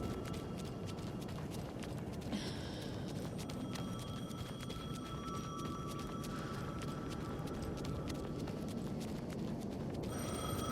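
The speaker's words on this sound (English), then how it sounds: "The phone again." A telephone rings repeatedly in the video game Alan Wake 2, a faint electronic ring repeating over a dense, steady background ambience with no talking.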